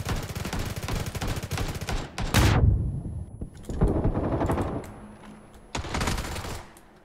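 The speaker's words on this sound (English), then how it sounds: "Yeah, I'm getting shot from somewhere." Bursts of rapid gunfire from a shooter video game with friendly fire on, dense volleys loud and close, then a heavy blast and scattered shots, with sporadic further bursts trailing off toward the end.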